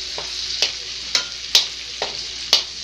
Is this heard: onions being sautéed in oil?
yes